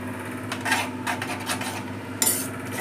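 A spoon scrapes and stirs through a pot of lentil dal with gongura leaves mixed in, a series of short rasping strokes close by with one sharper clink near the end.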